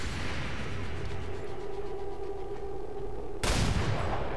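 Gunfire rattles in the video game XCOM Long War as a steady burst of shots over dense game noise, loud and continuous, with a sharper blast near the end.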